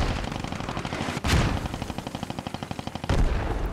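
Gunfire in the Post Scriptum war game rattles in a rapid machine-gun burst between two heavier booming blasts, loud and close with no voices in between.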